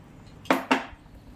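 A spoon knocks twice against a pot while stirring ghee into vermicelli kheer, two sharp close metallic clinks about a fifth of a second apart over a quiet background.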